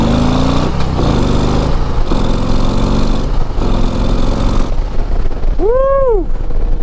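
A 2024 Harley-Davidson CVO ST motorcycle is ridden on a road in Mexico, its engine pulling hard and loud through rising gear runs, then a whistling pitch sweep near the end.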